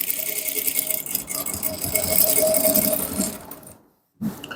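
A sewing machine runs steadily while top stitching a folded loop on men's shorts. A continuous mechanical whir and rattle lasts several seconds, then stops briefly and starts again.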